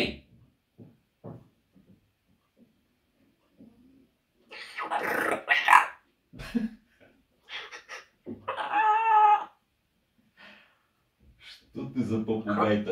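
A talking parrot with a habit of swearing gives out harsh squawks, growl-like noises and scratchy speech-like calls in scattered bursts, loud and close, with gaps of near silence and someone talking between them.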